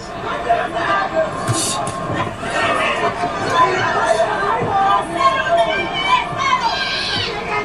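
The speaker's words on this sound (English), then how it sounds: "As you can hear this massive crowd in Tokyo trying to rally support for their hero" A massive boxing crowd in Tokyo rallies behind Inoue during his fight with Nery, a continuous roaring hubbub of voices that swells and dips without a break.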